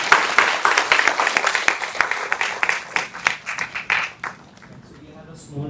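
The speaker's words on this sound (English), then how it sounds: "Let's give them a big round of applause," Applause for students called onto the stage at a reinforcement learning workshop, a room of people clapping steadily for about four seconds before it fades and a voice speaks.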